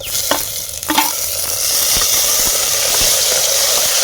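Chopped tomatoes fry in a clay pot over an outdoor stove for sundakkai kuzhambu, with a loud, steady sizzle and hiss close up and a few sharp stirring knocks early on, with no talking.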